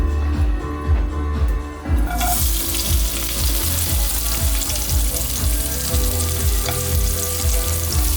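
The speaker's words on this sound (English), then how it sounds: "Okay guys, and now we're going to add our" Onion frying in cooking oil for Singapore noodles, a steady close sizzle that jumps louder after two seconds, with scraping stirs and utensil knocks through it and no talking.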